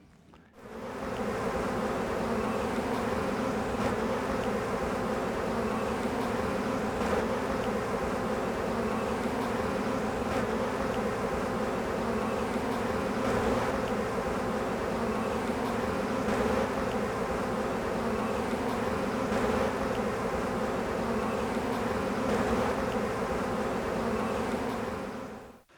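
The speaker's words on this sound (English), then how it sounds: "We can see the bees coming in over here" Honeybees buzz at a hive entrance on a spring day, a dense continuous drone from many insects close by, even and loud throughout, with no voices.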